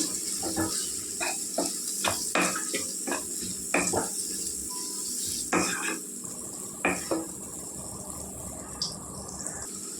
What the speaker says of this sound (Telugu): బాగా వేగాలండి ఉల్లిపాయలు.